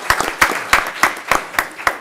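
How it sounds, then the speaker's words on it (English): Scattered applause at a city commission meeting for an award winner: a small group clapping in uneven, sharp bursts, fairly close, with no talk over it. "Everybody give her a little applause in case she sees us online."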